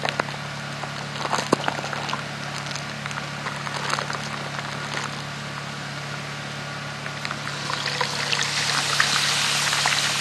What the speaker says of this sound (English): Now he's going to add 4 cups of milk.